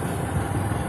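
A motorbike engine idles with a steady low rumble throughout, without change in pitch; no voices.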